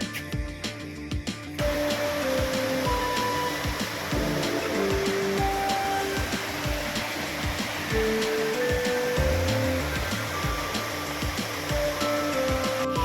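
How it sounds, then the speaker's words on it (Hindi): Fast-flowing river water rushes over rocks in the East Jaintia Hills, a loud, steady roar that swells after a brief quieter start and then stays continuous with no talking. "जहाँ पे पानी का फ्लो है काफ़ी तेज़ी से, जहाँ से ये साउंड आ रहा है"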